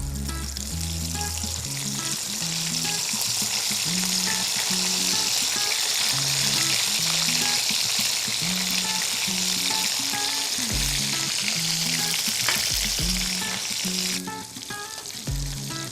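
Stuffed okra for bhindi masala sizzles and fries steadily in a pan, a dense, constant crackle that runs throughout, with tonal background music underneath.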